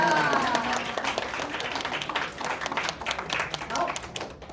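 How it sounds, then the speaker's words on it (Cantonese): An audience at a stage performance bursts into sustained applause for the performers, a dense wash of clapping close and fairly loud that holds steady throughout, with voices faintly mixed in. "我再一次俾更加熱烈嘅掌聲"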